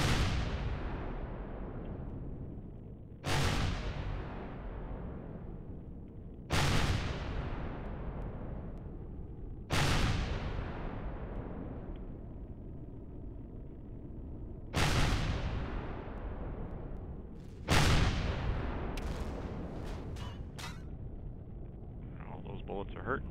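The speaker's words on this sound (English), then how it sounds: "All those bullets are hurting, guys" Repeated heavy gunfire in the Empyrion space survival game: loud booming shots arrive roughly every three seconds, each decaying over a few seconds, with a quicker cluster of bursts near the end.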